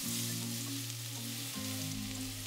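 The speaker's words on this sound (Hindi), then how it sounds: "तेल एक बार गर्म हो जाए फिर ऐड करेंगे 1 टेबलस्पून चॉप्ड गार्लिक" Chopped garlic fries in hot oil in a wok with a loud, continuous sizzle and a steady low hum underneath.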